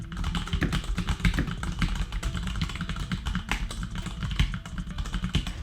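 Rapid, continuous typing on a Roccat Pyro full-size keyboard with linear switches, a dense stream of close clacking keystrokes with steady rhythm and no talking.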